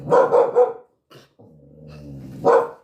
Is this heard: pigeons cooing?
no